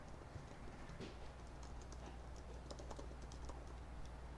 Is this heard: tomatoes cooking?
no